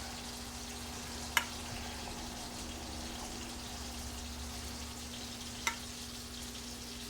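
Potatoes and sausage fry in a pan with a steady, soft, close sizzle, broken twice by a brief sharp click, with no one talking.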